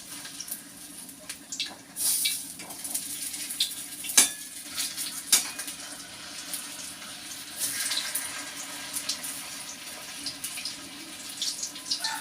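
Food frying in a pan at home, giving a soft, steady sizzle with intermittent scraping and stirring clatter and a few sharper clicks of the utensil, fairly quiet and with no talking.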